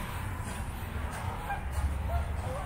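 Faint honking calls from ducks and geese over soft outdoor background noise, scattered and a little distant.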